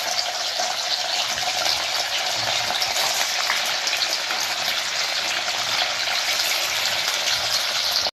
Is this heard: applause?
no